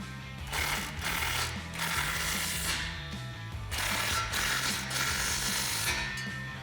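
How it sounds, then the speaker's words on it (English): A ratchet with a 13mm socket tightens a muffler clamp on a 2019-2021 RAM 1500 5.7L, giving bursts of rapid clicking in about three strokes with short pauses, close and fairly quiet. "with a 13mm wrench and a 13mm socket, go ahead and tighten it down"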